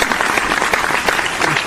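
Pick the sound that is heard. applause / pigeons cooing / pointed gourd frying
applause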